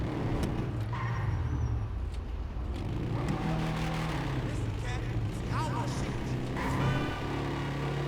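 A custom donk Buick GNX in GTA hums along with a steady engine drone, with a few brief hissing, brake-like accents while a person talks over it.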